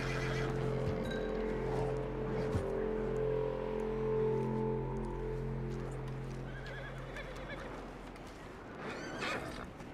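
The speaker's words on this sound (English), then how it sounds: "Nice horsey." Horse in the video game Red Dead Redemption II whinnies and snorts up close, with a few hoof clops and soft rustling over a low steady game ambience.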